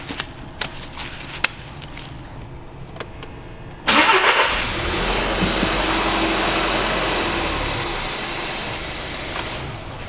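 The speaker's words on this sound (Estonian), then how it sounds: "Saab proovida, kas auto läheb käima." An Audi car engine cranks and fires up partway through, then settles into a steady close idle after a few quiet seconds of small handling noises.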